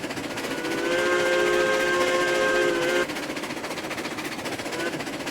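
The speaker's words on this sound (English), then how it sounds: "if we can keep the whistle going" A steam locomotive whistle in the train simulation game Railroads Online blows one long steady tone for about two seconds over the chuffing rumble of the engine, then cuts off, leaving the rhythmic mechanical running sound.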